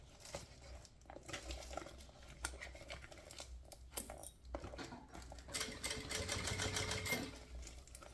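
A sewing machine stitches a thermal bottle holder in quiet bursts of rapid needle chatter, stopping and restarting as the piece is turned, with faint handling clicks between runs.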